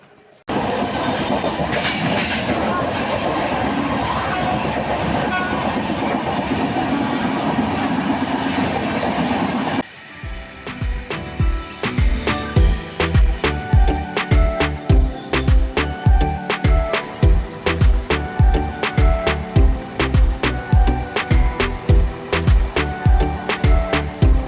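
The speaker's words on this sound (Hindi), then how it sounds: "और जबलपुर से चलने के बाद इस ट्रेन ने जो स्पीड पकड़ी है" A fast passenger train running after Jabalpur rattles loudly, first as a dense steady roar, then as rapid, regular clickety-clack wheel beats over rail joints heard close up from aboard.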